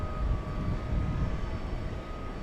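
A British Airways airplane at an airport, giving a steady, fairly loud jet engine roar with a faint high whine running through it.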